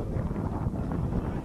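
Strong wind buffeting the microphone at an outdoor football match, a steady loud rumbling gust noise with no talk.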